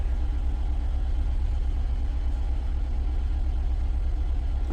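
A 2014 Mini Cooper engine idles with a cylinder misfire, giving a steady, low, rumbling drone with a faintly uneven pulse throughout.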